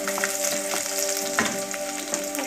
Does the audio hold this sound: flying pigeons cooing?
no